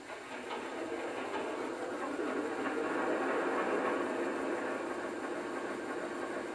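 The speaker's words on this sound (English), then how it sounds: "To get our locomotive to start up again, I simply address the locomotive and press the power button" Model Centipede AA locomotive starting up, a steady mechanical hum with a faint whirring, continuous and even throughout at low level, no voices.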